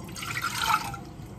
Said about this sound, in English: So, a cup of water